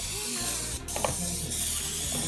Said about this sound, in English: we're going to take this pan and we're going to spray him down